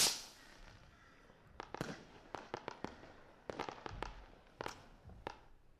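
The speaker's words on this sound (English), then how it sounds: "Fireworks finale" Public-domain fireworks effect: after a fading opening burst, a volley of sharp cracks and pops in irregular clusters, fairly loud and crisp, with short quiet gaps between bursts and no voices.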